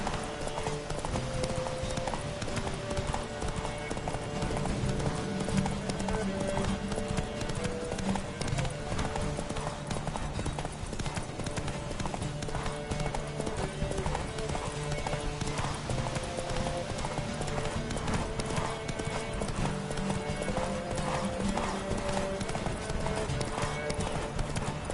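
Horse hooves clip-clopping at a fast gallop during a race in The Witcher 3: Wild Hunt on PS4, a continuous driving rhythm with game music and voices over it.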